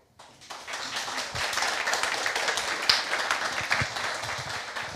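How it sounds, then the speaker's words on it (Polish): Audience applause at a book reading for a new novel, steady clapping that swells up quickly after a brief silence and continues evenly from a room full of listeners. "Czas na oklaski po raz drugi"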